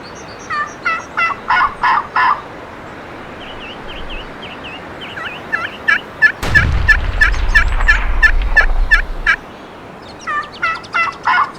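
Wild turkey gobblers gobbling loudly and nearby in repeated rattling bursts, two birds answering each other, with a low rumble partway through.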